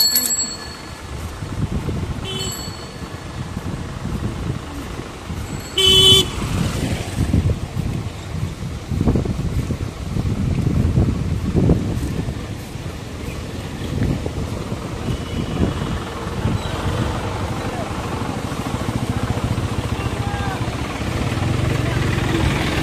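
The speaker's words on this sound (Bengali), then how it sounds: "প্রচন্ড বাতাস আজকে, আসছে প্রচন্ড বাতাস।" Strong wind buffets the microphone outdoors, a continuous low rumbling roar that swells and gusts throughout, with a few brief higher clicks and rattles partway through.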